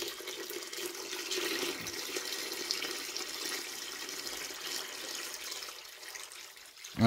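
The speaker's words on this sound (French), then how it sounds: "Donc, on rajoute de l'eau" Water poured into a container of seeds being prepared: a steady, moderately loud rushing flow lasting several seconds, with no talk.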